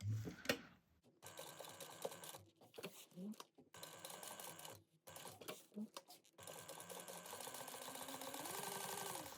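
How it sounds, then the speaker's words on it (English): A sewing machine topstitches around a bag pocket in bursts of rapid mechanical ticking and whirring, stopping and starting, close up, with a voice talking between and over the runs. "we're going to top stitch around this at 1/8 of an inch"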